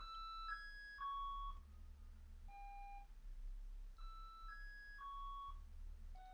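Eurorack modular synth driven by a step sequencer track from VDMX, giving a looping pattern of short pure beeping tones at shifting pitches over a low hum, quiet and alone.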